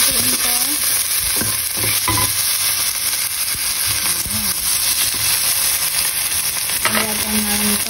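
Tomato frying in a pan for fried rice: a steady, loud sizzle with intermittent scraping stirs and clinks of the utensil against the pan, close up, with no one talking.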